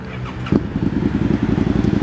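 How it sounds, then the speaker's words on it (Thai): Exhaust of a 2017 Suzuki Gladius, a two-cylinder motorcycle, idling nearby with a steady lumpy pulse after a sharp start-up. "จะฟังเสียงท่อคันนี้กัน"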